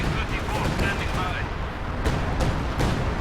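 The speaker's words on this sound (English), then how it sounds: "105mm howitzer barrage" A 105mm howitzer barrage pounds the battlefield in Company of Heroes 2: dense, continuous booming and crackling blasts that stack over one another, loud and rumbling throughout.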